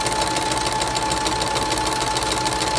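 A sewing machine runs continuously and loudly, stitching a seam on a fabric face mask with a steady, dense mechanical whir and faint rhythmic knock throughout.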